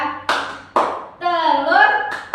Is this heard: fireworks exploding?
no